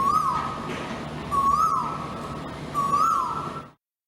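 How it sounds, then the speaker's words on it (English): An Asian koel calls three times, each a rising whistled note repeated at even intervals, clear and fairly close against a quiet background. "So it's the Asian koel."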